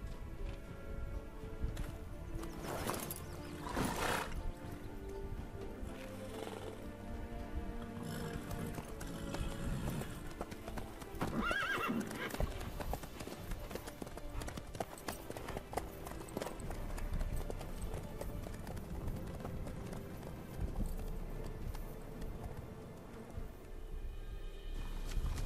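Horse hooves clip-clopping in The Witcher 3, a steady rhythmic trot of moderate loudness running throughout, mixed with game ambience and music underneath.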